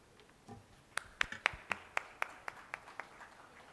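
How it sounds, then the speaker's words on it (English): Sparse, evenly spaced hand claps from a conference audience at a leadership event in Dubai, about a dozen sharp claps in a steady rhythm, fairly close and moderately loud, with no crowd roar behind them. "Let's give them all one more round of applause."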